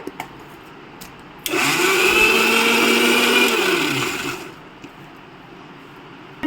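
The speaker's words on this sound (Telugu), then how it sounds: "నానబెట్టుకున్న చింతపండు వేసుకుంటున్నా ఒక రెండు చెంచాలు మంచిగా మిక్సీ పట్టుకుందాం" A mixer grinder whirs steadily for about three seconds as it blends soaked tamarind with water, starting abruptly and then winding down, with quiet room tone before and after.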